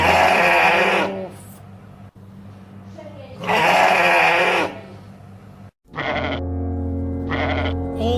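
A sacrificial sheep for Eid gives three loud, drawn-out bleats near by, with short pauses between them.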